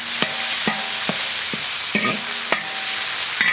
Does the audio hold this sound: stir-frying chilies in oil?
yes